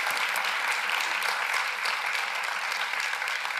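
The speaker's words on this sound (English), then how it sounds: "Let's give Luke a round of applause" A large audience bursts into sustained applause for a speaker at a public-life discussion event, dense steady clapping filling the room at an even, loud level throughout.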